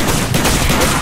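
Spas-12 shotgun firing in a Call of Duty zombies game, Shangri-La map: a dense, continuous burst of loud gunfire and explosive noise with no gaps, filling the whole moment.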